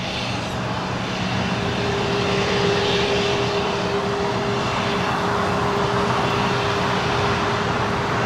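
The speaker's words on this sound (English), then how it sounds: "This is JSX Flight 322 coming in from Las Vegas. It's an ERJ 135 LR." A JSX Embraer ERJ 135 LR regional jet arriving at LAX, a loud, continuous broadband jet roar with a steady whining tone, sustained at close range throughout, with no talk.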